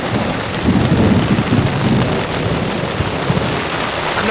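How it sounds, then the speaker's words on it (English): Heavy rain pours steadily during a violent Colorado mountain thunderstorm, with thunder rumbling deep and continuous beneath a dense, loud hiss of rainfall that never lets up. "Just non-stop thunder."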